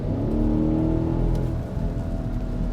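A 2020 BMW X7 M50i SUV with a V8 engine accelerates, a steady loud mid-pitched engine drone rising and holding close by, with no talking over it.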